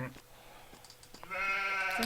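A sheep in Age of Empires II HD bleats in a drawn-out, nasal cry near the end, preceded by light clicks and background murmur of a voice.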